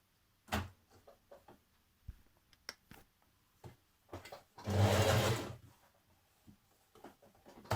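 A sewing machine hems the bottom of a dress in one steady, close burst of rapid stitching, surrounded by quiet clicks and fabric handling sounds.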